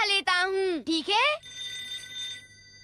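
Cartoon telephone ringing in a Doraemon episode, two loud bright trilling rings in quick succession, then fading to a quiet tonal tail.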